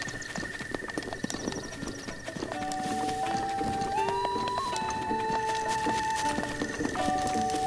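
Horse hooves clip-clopping at a stable in the video game The Legend of Zelda: Breath of the Wild, a quiet run of repeated hoof taps set against game music tones, with no talking.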